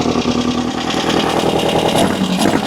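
A VW-powered sand rail engine revving up close, loud and rough with a throbbing, uneven exhaust note throughout the short burst.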